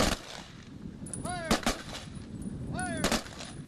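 Gunshots fired in salute at a memorial ceremony for fallen soldiers outdoors: two loud, sharp volleys about one and a half seconds apart, with a whistling echo before each, heard at a distance over steady crowd ambience.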